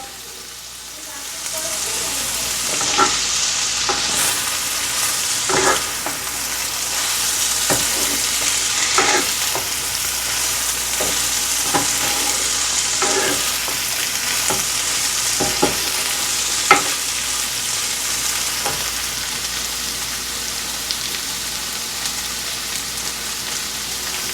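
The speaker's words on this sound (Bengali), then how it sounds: "এবার দেখো এর তরকারিটা একটু মানে শুকি ভাজা ভাজা হয়েছে" Banana flower curry (mochar ghonto) frying dry in a pan: a steady close sizzle broken by repeated spatula scrapes and stirring knocks throughout, with no talking.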